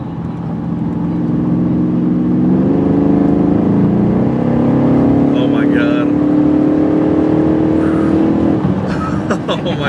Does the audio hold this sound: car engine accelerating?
yes